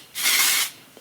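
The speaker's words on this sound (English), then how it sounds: "I'm gonna take some dry shampoo. I'm gonna spray it" A single short burst of dry shampoo aerosol sprayed onto a wig's hair, a steady broad hiss lasting about half a second, close by, followed by quiet.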